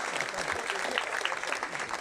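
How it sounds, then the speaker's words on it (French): An audience at an award ceremony for a sailing race bursts into applause, a dense patter of clapping heard close and steady with a voice speaking over it. "Qu'on peut applaudir."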